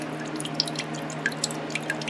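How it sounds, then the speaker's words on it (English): Water drips steadily from an old cistern pump, irregular bright plinks landing over a constant low hum from the running pump, close and fairly clear, with no one talking. "It's just dripping."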